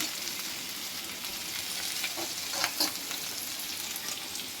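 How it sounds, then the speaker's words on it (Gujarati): Chopped vegetables, capsicum among them, sautéing in a hot pan for a manchurian and pasta dish, giving a steady broad sizzle with a few soft stirring scrapes partway through, close and even. "ધીમે ધીમે આપણું બધું વેજીટેબલ એડ કરી અને સાતળી લઈશું"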